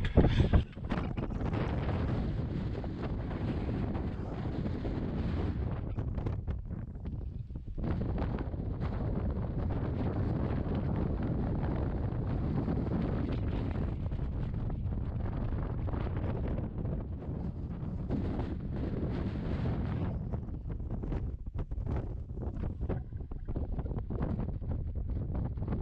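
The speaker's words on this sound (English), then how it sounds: "It's a little windy up here." Strong wind roars across a mountaintop on a three-night Appalachian Trail hike near Saddleback, buffeting the microphone in loud, continuous rumbling gusts with brief lulls, and no voices.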